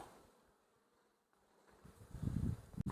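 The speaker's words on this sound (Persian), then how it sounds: "محمد ما الان اینجاییم دور برمون این زنبورا نمیزنن" Honey bees buzz softly around hives in a desert village in Iran, a faint drone that swells louder toward the end with no voices over it.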